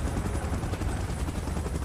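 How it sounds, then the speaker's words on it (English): Helicopter in the Godzilla vs Kong vs Mechagodzilla game's Titans Strike Last Stand mode, a steady, dense rotor wash with continuous broadband roar holding at an even level throughout. "Chopper in position."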